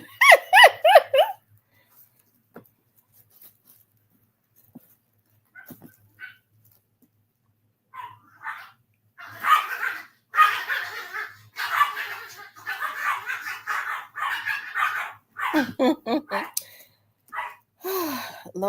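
Puppies yip and whimper in short, high bursts at the start and again near the end, fairly close and loud, with people talking through the middle stretch.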